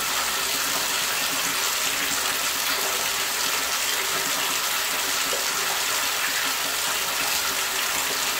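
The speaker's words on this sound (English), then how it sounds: "It's draining as fast as it's pouring in." Tap water pours steadily into a sink that is draining freely after a Drano treatment, a constant close splashing rush with no voices.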